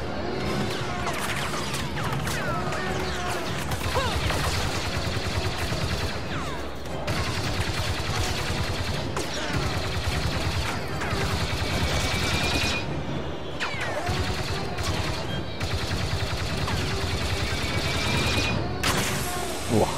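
Blaster and weapon fire during the Battle of Jakku in Star Wars Battlefront 2 (2017): dense, continuous volleys of shots and impacts crackle without pause across the whole stretch of a loud, chaotic battle.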